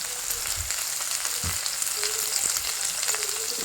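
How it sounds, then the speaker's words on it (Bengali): Pointed gourd vines fry in hot oil in a pan, making a steady bright hiss of sizzling with a few soft low thumps from stirring, fairly quiet and close, with no voices. "কড়ার মধ্যে তেল গরম হয়ে যাওয়ার পর পটল লতিগুলো আমি তেলের মধ্যে দিয়ে দিলাম"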